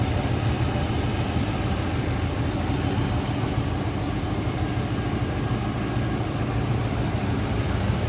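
A 1991 GMC Jimmy K1500 4x4 with a 5.7-liter V8 idling smoothly and steadily at close range, a continuous low rumble with no voices.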